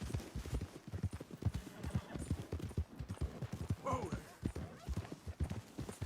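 Horse hooves in Red Dead Redemption during a chase to acquire a Missouri Fox Trotter, a rapid, continuous clip-clop of galloping through woods, with a brief whinny near the middle.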